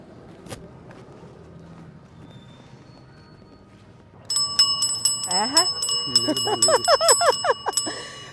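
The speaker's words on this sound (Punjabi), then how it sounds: "ਸਾਈਕਲ ਤੇ ਘੰਟੀ ਵਜਾ ਕੇ ਉਹਨੂੰ ਪਤਾ ਚੱਲ ਜਾਏਗਾ ਕਿ ਕੋਈ ਪਿੱਛੇ ਹੈ" After a quiet start, a bicycle bell rings repeatedly in quick, bright trills, loud and close, with a voice speaking alongside.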